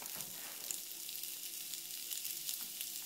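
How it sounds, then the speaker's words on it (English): Bacon meatloaf sizzles on a warm grill pan, a soft, even frying hiss with light crackles, close but quiet and steady, no voices. "I've got here the grill pan already warm, and now I'm gonna put my meatloaf"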